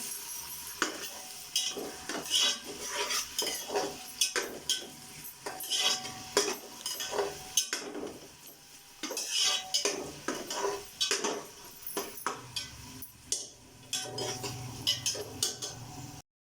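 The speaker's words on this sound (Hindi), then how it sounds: "अब इसमें प्याज ऐड कर लेते हैं।" Finely chopped onions, two large ones, frying in hot oil in a pan while being stirred, with steady clinks and scrapes of a utensil against the metal over a constant sizzle.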